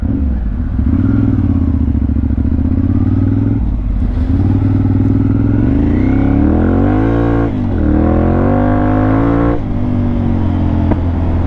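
A 2014 Ducati Monster 696 motorcycle engine runs loud and close, its deep throb rising and falling through several revs and gear changes across the whole stretch, with no talking.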